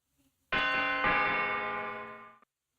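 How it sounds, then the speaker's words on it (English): A single bright door chime from a video game lock puzzle rings out close and clear, a rich bell-like tone that starts with a second strike and fades over about two seconds. "the professor's lock system only opens when you reproduce the chimes you hear"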